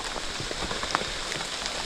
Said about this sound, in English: It's still raining, soaking wet, very uncomfortable.